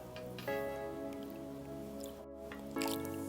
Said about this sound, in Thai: แล้วก็นำมาล้างด้วยน้ำเปล่าอีกรอบหนึ่งครับ